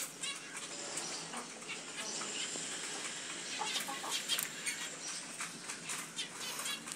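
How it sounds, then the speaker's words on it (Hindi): Pigeons flutter, peck at grain and coo close by in a busy, scattered flurry of small sounds and wingbeats, with faint background noise throughout. "तो दोस्तों सभी आ गए हैं कबूतर"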